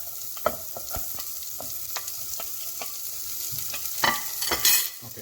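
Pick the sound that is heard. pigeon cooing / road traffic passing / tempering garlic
tempering garlic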